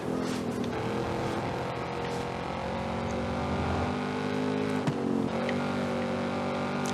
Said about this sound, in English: you can just hear the sound of your engine like bouncing off the wall and coming back at you